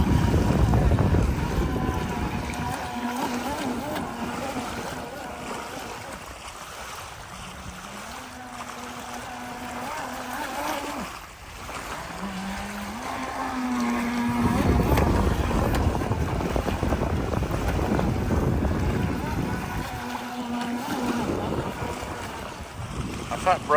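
A brushed 2S RC boat running on a lake, a continuous buzzing motor whine that rises and falls as it speeds and turns, heard from the shore under steady wind noise.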